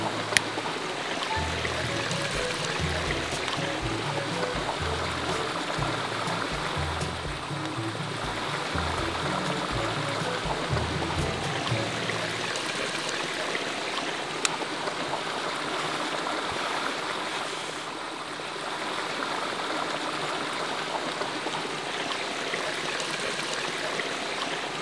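A forest stream at Thác Bà in Bình Thuận flows with a constant, close rushing hiss. Low, irregular thumps sound beneath it during the first half, and no voices are heard.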